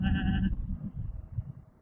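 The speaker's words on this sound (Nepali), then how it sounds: "फेरि बाख्राहरू छन्" A single goat bleat rings out close by on a mountain road during a motorbike ride, then gives way to low rumbling background noise.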